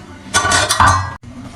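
Beef nihari being dished out, with a quick cluster of clinks and clatters from pots, plates and a serving spoon, close and fairly loud, ending in a brief silence.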